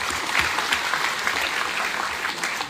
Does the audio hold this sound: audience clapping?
yes